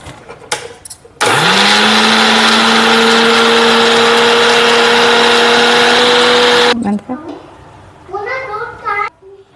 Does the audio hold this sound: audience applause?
no